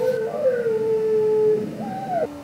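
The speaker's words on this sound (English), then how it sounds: "Don't know if you hear the dogs." A dog howls in a long, sliding, mournful tone that dips and then rises again, close and fairly loud over a soft background hum.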